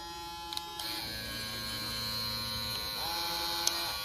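A steady electric buzzing hum from an older Babyliss CustomFX hair clipper running close by, with a few faint clicks early on and no talking.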